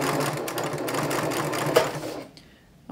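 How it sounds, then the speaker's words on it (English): A domestic sewing machine runs steadily at full speed, stitching across a seam on a toiletry tote, then stops abruptly near the end, leaving near silence. "And then I'm going to sew across until I get to the back stitching where I started."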